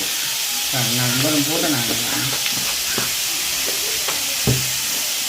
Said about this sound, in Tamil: சரி உப்பு போட்டாச்சும் கொஞ்சம் வதங்கி கொண்டு வரட்டும்